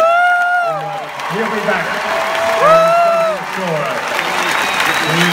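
Crowd applause with scattered cheers during a post-match on-court interview at the Australian Open, a loud, sustained wash of clapping running beneath an announcer's voice throughout.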